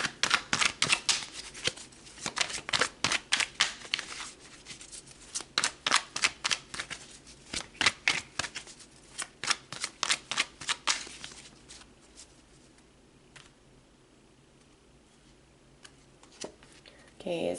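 Tarot cards being shuffled by hand in quick, crisp riffling bursts that fade toward the end, close and fairly quiet, with no talking over them.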